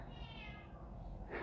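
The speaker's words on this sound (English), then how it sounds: "There's the cat." A cat indoors in a house in Senekal, Free State gives a single short, faint meow that fades out within about a second.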